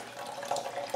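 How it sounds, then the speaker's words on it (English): Water drains from a Phalaenopsis orchid pot into a sink, a close steady trickle and splash with brief louder gushes near the middle and end, no voices. "and I'll drain it in the sink"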